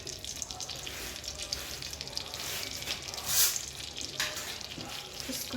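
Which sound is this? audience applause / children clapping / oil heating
oil heating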